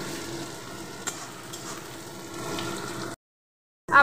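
Onions frying in oil for a biryani, a steady close sizzle and crackle with faint stirring, cutting to silence near the end before a brief sound returns.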